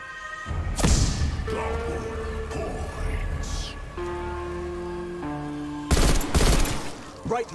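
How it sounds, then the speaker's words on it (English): Shotgun blasts in a zombies video game, with two or three sharp, loud booms, the heaviest burst near the end, set among tonal game effects and a low background rumble. "Shotgun equipped."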